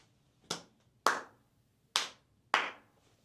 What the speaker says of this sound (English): Or I'm gonna clap right now to give you an example.